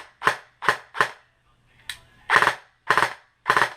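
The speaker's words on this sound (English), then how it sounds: "right now it's in 3-round bursts." VFC HK416 airsoft rifle with CQB gearbox, Spectre V2 mosfet and changed spring, firing three-round bursts: three sharp close shots, a short faint burst, then three more loud shots in an even rhythm.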